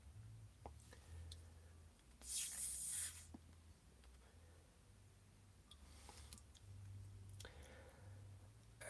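Keyboard keys tap faintly and sparsely in the background of a live online chat, with scattered light clicks and one brief hissy burst.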